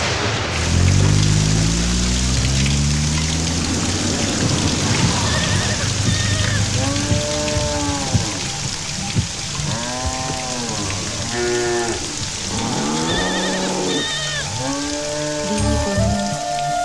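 Rainfall patters on surfaces in a steady wash while voices talk and sing over it, the rain staying constant beneath the louder speech.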